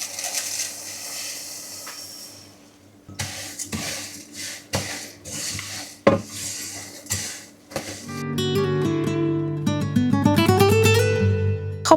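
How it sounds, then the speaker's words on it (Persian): Vermicelli noodles toasting in butter in a pot, stirred for Persian saffron rice pilaf: close, irregular scraping and clinking of a utensil against the pan, then a steadier sustained tone over the stirring. "من با یه مقدار کره میخوام این ورمیشیل، یعنی همون رشته های سوپمون رو تفت بدم"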